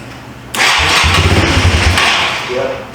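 An abandoned Yamaha 250 Timberwolf ATV cranks and its engine catches after a brief quiet pause, a loud, close, throbbing rumble that surges, then settles into a rough running idle that fades slightly.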